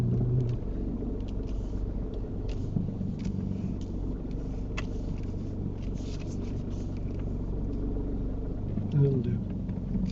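A car idling and creeping forward as it pulls into a parking space during a UK mock driving test, a low steady engine rumble inside the cabin with an instructor talking over it.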